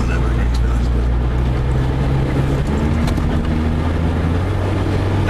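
A Ford Capri race car drones steadily around the Donington Park circuit, a loud constant engine hum heard from inside with talk over it.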